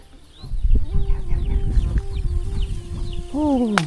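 Several chickens cluck and murmur nearby in a remote forest village with no electricity, a busy, overlapping chorus with a louder squawk near the end.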